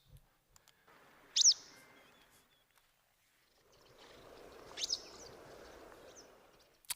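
Two bird sounds one after another: a whitethroat's song with mimicked yellow wagtail notes, then a real yellow wagtail call, each a sharp high chirp over a soft, faint hiss.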